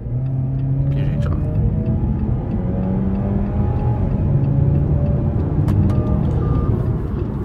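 A 2017 Jeep Compass Limited's 2.0 litre, 166 hp engine hums steadily from inside the cabin on the road, a low continuous drone with slight shifts in pitch as it drives.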